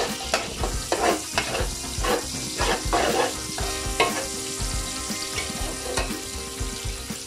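Garam masala, cumin and bay leaves being stirred into lamb pulao in a hot pot: a continuous loud sizzle and frying hiss with repeated scraping strokes of the spoon, close up and without talk.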